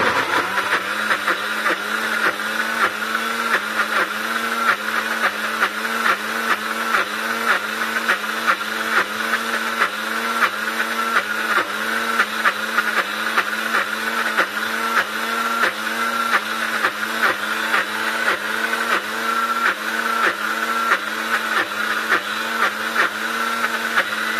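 Electric blender grinding peanuts into peanut butter, a steady loud motor whir with a pulsing, churning rhythm running unbroken throughout, no talk.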